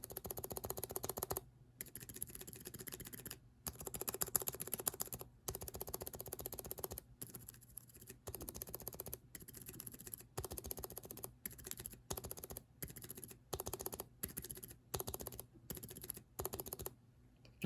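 Quiet, steady typing on a keyboard fitted with Outemu silent tactile, Kailh BOX silent brown and Alia switches: soft, muted clacks in quick bursts, broken by short pauses, with no talk.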